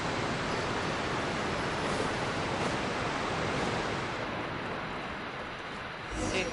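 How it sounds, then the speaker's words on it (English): Loud, steady roar of a waterfall in the video game Genshin Impact, a dense rushing wash of water that holds constant throughout, nearby and dominant, thinning slightly near the end. "The farther I am away from that waterfall, the better. It's so loud."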